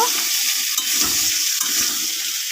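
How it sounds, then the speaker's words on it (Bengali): Potatoes fry in a pan for a vegetarian paneer and poppy-seed curry, a dense close sizzle running throughout while a spatula stirs and scrapes them in soft repeated strokes. "আলুটাকে ভালো করে কষিয়ে নেব"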